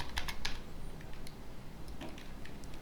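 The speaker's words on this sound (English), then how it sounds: "So I'm going to type rwx to make the modification." Soft keystrokes on a computer keyboard as a short command is entered, a handful of faint clicks in two quick bursts against quiet room hiss.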